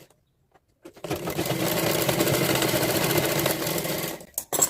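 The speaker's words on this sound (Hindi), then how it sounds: "इस तरीके से एक सिलाई पहले चला लेंगे" A sewing machine runs a single continuous seam on a blouse hook strip for a katori blouse. The whirring, rapid stitching lasts about three seconds at moderate loudness before stopping, with a few faint handling clicks around it and no talking.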